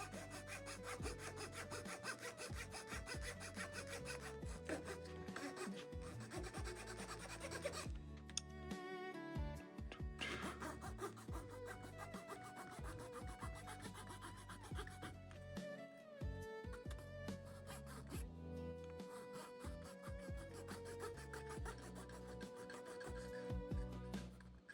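Steady rasping strokes of sanding or filing on a small wooden model ship mast, close and continuous with short pauses, quiet overall.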